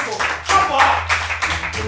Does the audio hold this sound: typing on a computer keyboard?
no